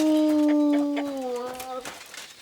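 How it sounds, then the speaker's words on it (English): A dog in the video game Kingdom Come Deliverance 2 lets out a long, mournful, whining howl that slowly falls in pitch and fades, with soft ambient game sounds beneath. "Why is that dog crying too?"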